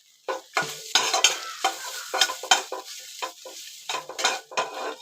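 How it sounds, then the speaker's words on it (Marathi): Grated ginger fries in ghee in a wok, with repeated spatula stirs scraping the metal in uneven bursts over a soft sizzle, close and fairly loud, no talking. "तुपामध्ये थोडासा मी पहिला आल्याचा कीस टाकला आल्याचा किस"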